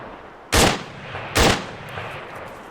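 Two loud, sharp 5.56 rifle shots about a second apart, fired at vehicles in ArmA 3, each with a short decaying tail over a quiet background.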